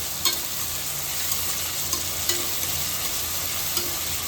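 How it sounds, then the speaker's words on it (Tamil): Onions sauté with salt in a pan for a crab masala gravy, giving a steady, close sizzle throughout with a few light stirring clicks scattered over it. "வெங்காயம் நல்லா வதங்கணும்னா கொஞ்சம் உப்பு போட்டுக்கோங்க"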